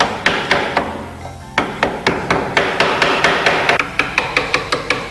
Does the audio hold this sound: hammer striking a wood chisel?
yes